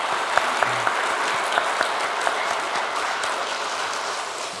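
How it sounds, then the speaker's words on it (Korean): A church congregation claps together in dense, even applause that fills the whole stretch, with a few sharper individual claps standing out and no talking over it. "오늘 이 일을 허락하신 주님께 감사의 박수 한 번 더 올려드릴까요?"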